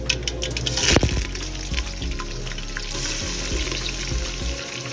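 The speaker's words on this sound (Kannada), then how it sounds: "ಎಳ್ಳನ್ನ ಲೋ ಫ್ಲೇಮಲ್ಲಿ ಡ್ರೈ ಫ್ರೈ ಮಾಡ್ತಿದ್ದೀನಿ." Sesame seeds dry roasting in a pan over a low flame, giving a soft steady sizzle and hiss with a few sharper clatters of stirring near the start, heard alone without talk.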